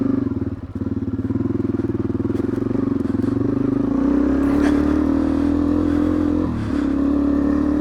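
A small engine, whose carburetor needle had stuck until air was pushed through with a Makita pump, kicks over and settles into a steady, loud running drone with a brief dip near the start.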